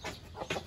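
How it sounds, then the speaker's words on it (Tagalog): A Shamo hen of the PB line clucks while being held, giving two or three short, soft clucks close by. "Hinawakan ko ngayon na hen ay PB line Shamo."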